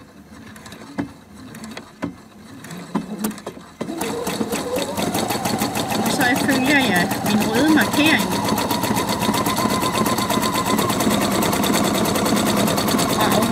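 Sewing machine stitching fabric as an overlock alternative, a few hand-turned clicks under a voice, then a loud, fast, steady mechanical whir running continuously close up.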